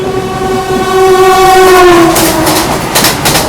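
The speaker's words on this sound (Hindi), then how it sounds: "इसको ओवरटेक करने आ रही है एनजेपी से चलकर हावड़ा की ओर जाने वाली वंदे भारत एक्सप्रेस" A Vande Bharat Express passes on the NJP to Howrah route, its long horn blast sliding in pitch over rising rumble and clatter of wheels, then fading into a rhythmic clickety-clack of coaches, loud and close.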